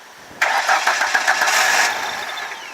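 A Ford Ranger engine cranks and catches on starter fluid, a sudden loud whirring burst of starter and rough firing that runs about a second and a half before easing down.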